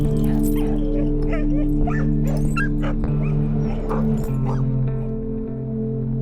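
Neglected chained dogs at a rescue site in an area troubled by dogfighting yip, bark and whimper repeatedly, several close calls over a steady low background hum.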